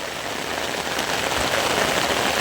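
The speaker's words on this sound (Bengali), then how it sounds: "ও কি মসুল হারে বৃষ্টি হচ্ছে" Heavy rain pours down steadily in a village, a dense, close, even wash of drops drumming on surfaces with no voices over it.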